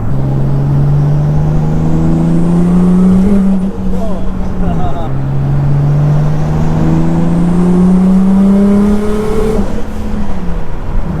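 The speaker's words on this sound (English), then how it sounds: "Just want to see if this car spins in fourth gear." A 700 bhp rear-wheel-drive Nissan Skyline R33 on winter tyres revs hard in fourth gear on a street, climbing in pitch twice with a brief drop between, loud and close.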